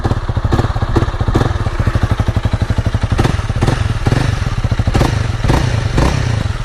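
A single-cylinder 2018 Honda Rebel 300 motorcycle engine idles nearby, a loud, steady, chugging thump with occasional louder pops and rattles, no talking.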